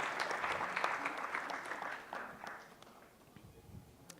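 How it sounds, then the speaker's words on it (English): Audience applause at an award gala, a brisk crowd clap that fades after about two seconds into scattered claps and room noise. "Big round of applause, please, for Gunj India"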